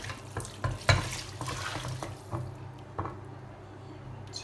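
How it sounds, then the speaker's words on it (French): Broth pours into a pan while a blanquette sauce is made, giving a splashing, gurgling rush that sounds close and fades within a few seconds. "Donc là je mets mon bouillon."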